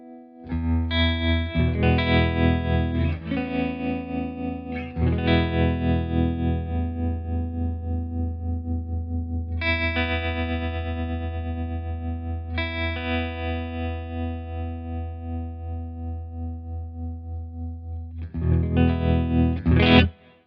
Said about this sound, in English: Let's hear the trem.